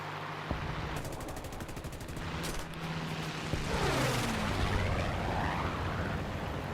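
Rapid bursts of aircraft cannon and machine-gun fire during a War Thunder dogfight against Spitfires, flown in a captured Tempest Mk V, loud stuttering volleys over steady engine drone.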